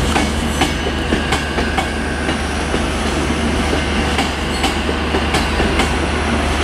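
A Virgin train at Manchester Piccadilly, a loud rumbling passage with rhythmic wheel clicks and faint squeals over the rails, heard close with no voices.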